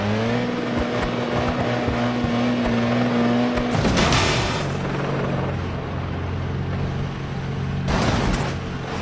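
A Mitsubishi Lancer Evo engine runs with a steady, loud drone, then surges into a harsh rush of noise as it revs or passes close, settling into a lower hum before another burst near the end.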